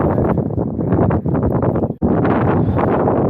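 Strong wind buffets a microphone on a beach in loud, rumbling gusts with a brief dip near the middle, close and continuous with no speech.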